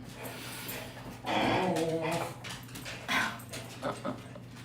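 Dogs whimper and yip excitedly in a house, several short bursts of high whining rising over a low hum, with a person's voice faintly nearby.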